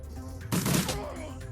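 Burst of gunfire in the tactical game Shadowrun: Dragonfall, a short loud volley lasting about a third of a second over a steady low background hum.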